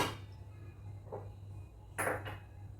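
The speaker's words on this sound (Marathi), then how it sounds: "पाण्याला उकळी येण्यासाठी मी झाकण ठेवते।" A metal lid is set on a cooking pot of water, giving a couple of sharp clinks and a brief rattle close by, with a low hum in the background.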